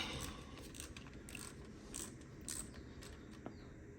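Oil drain plug being tightened on a Kawasaki KLX300 motorcycle during an oil change, a faint ratcheting click-clicking over a low steady background hum.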